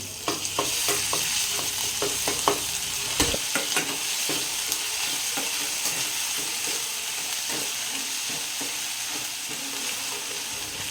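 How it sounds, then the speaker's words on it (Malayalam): Ginger garlic paste frying in a pan for egg curry, a continuous close sizzle broken by repeated scraping and tapping of a spoon stirring it. "ഇഞ്ചി വെളുത്തുള്ളി പേസ്റ്റ് 1 ടീസ്പൂൺ ഇട്ട് കൊടുക്കുകയാണ്"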